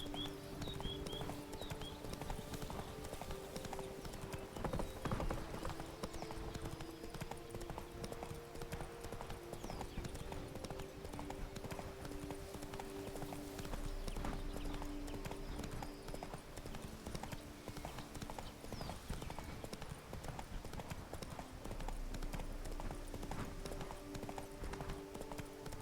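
Roach the horse's hooves clip-clop steadily on the ground in The Witcher 3: Wild Hunt, a continuous rhythmic trot heard faintly for the whole stretch under quiet game ambience.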